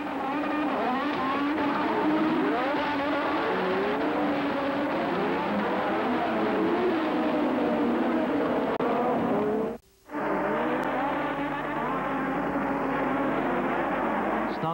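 Formula 1 cars at the 1986 Grand Prix start roar together, with engine notes rising and falling in overlapping sweeps, then cut briefly to near silence before the roaring resumes, loud and continuous throughout.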